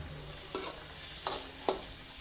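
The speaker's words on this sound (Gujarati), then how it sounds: "હવે બધી વસ્તુને સારી રીતે સાતળી લઈએ" Cabbage manchurian with capsicum and salt being sautéed in a pan gives a faint, low sizzle, with three distinct scraping strokes of a spoon against the pan, the last one the sharpest.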